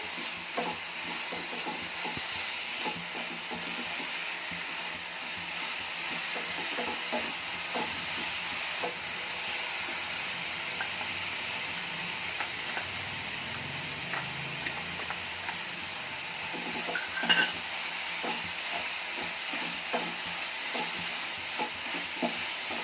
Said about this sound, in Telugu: నెయ్యి వేసి అంతా ఒకసారి తిప్పాలి.